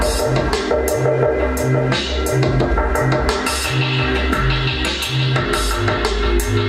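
A buzzy electronic synthesizer plays a repeating pulsing bass pattern with bright rhythmic hits on top, loud and continuous, with no voices.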